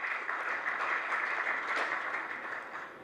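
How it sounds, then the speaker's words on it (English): An audience at a bank's business event gives a brief round of applause, a dense, even patter of many hands that slowly tapers off. "You want to give him another round of applause?"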